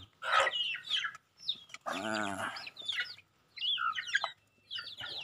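Village chickens, including kampung and black peru birds, cluck and squawk in short bursts at evening feeding, one drawn-out call standing out near the start, with a voice speaking briefly among them.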